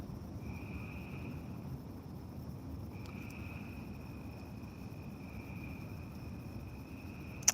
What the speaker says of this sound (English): You probably hear the frogs talking back and forth.